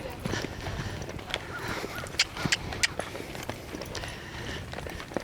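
A horse lopes in a round pen during training, its hoofbeats thudding in a steady rolling rhythm with sharper hits near the middle, over background ambience and faint voices.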